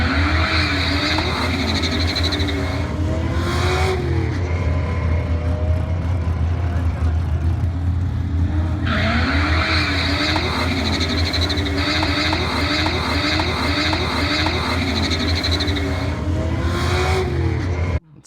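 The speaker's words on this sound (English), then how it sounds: "here you're going to watch them both launch, and the silver one wheel hops and snaps an axle." Two Mustang race cars, including a 2004 Mustang Cobra Terminator, launch hard, with loud roaring engines, wheel hop and squealing tires that surge again partway through, over steady broadband noise with some talk underneath.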